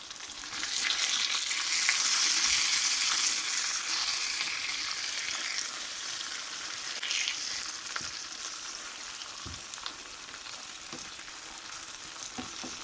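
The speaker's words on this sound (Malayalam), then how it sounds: "ഒരു ഭാഗം വെന്ത് വന്നിട്ടുണ്ട്, നമുക്കിത് മറിച്ചിട്ട് കൊടുക്കാം. നല്ലതുപോലെ ഫ്രൈ ആയി വന്നിട്ടുണ്ട്." Fish frying in a pan, a steady close crackling sizzle with faint pops and occasional light knocks as pieces are turned.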